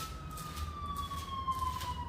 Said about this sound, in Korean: 저 사이렌도 그렇답니다.